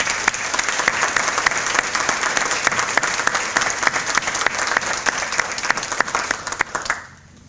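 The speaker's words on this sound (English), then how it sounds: "Please join me in showing appreciation by giving everyone a big round of applause." An audience at an evening awards ceremony applauds, dense and steady clapping from a large crowd that holds evenly before cutting off near the end.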